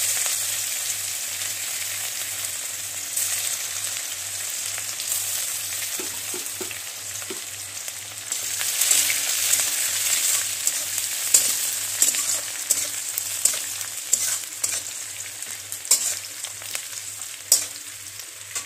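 Onions and green chilies frying in a pan for a jackfruit seed dal, a steady bright sizzle that swells and crackles louder partway through, with occasional stirring scrapes and a low hum underneath.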